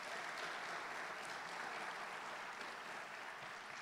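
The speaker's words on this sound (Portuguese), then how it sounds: "Aplaude Jesus de coração." A church congregation applauds during a sermon, with faint, sustained clapping that holds steady for several seconds.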